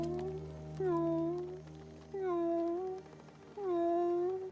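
A voice imitates a cat, giving three drawn-out meows with rising and falling pitch over a low background hum, moderately loud in a film scene.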